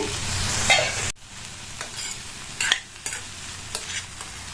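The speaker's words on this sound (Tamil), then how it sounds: "இடையில அப்பப்ப ஓபன் பண்ணி பார்த்து கிண்டி விட்டுக்கங்க." Snake gourd stir-fry sizzles in a pan, with a louder burst cut short, then softer frying broken by occasional scraping stirs close by.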